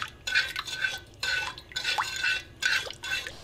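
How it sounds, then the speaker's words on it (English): A spoon scrapes and clinks around a pan as sugar is stirred into water, coming in repeated rhythmic bursts of metallic swishing, close and fairly loud, with short pauses between strokes. "And stir it in until it's dissolved."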